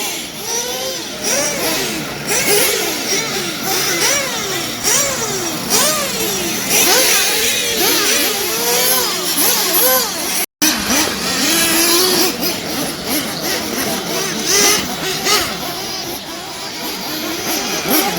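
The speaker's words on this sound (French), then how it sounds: "Donc là les moteurs ils sont en route" Race car engines run in the pits at the Montpellier Grand Prix warmup, with a dense chorus of loud, close revving and burbling engines rising and falling over one another without a break.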